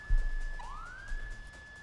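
A police siren from the GTA 5 Hands-Free Siren mod gives one brief rising wail that sweeps upward and levels off, moderately loud over a steady background hum.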